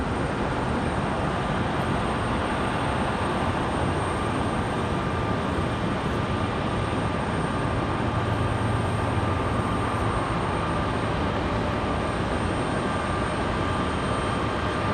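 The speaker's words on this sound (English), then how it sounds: "Republic Airways taking off in front of the moon." A Republic Airways jet takes off from Raleigh-Durham International Airport in the evening, its engines a steady, broad, loud roar that holds evenly throughout, with no voices.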